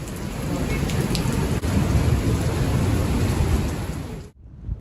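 A hailstorm in southern Germany pounds down on houses in a dense, continuous roar of impacts, loud and close, cutting off abruptly just before the end.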